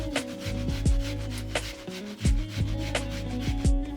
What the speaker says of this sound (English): And I grate in an onion as well.